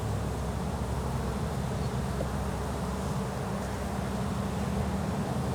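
Dense, steady buzzing of a bee colony at an open hive being inspected, a continuous close drone with no pauses and no voices.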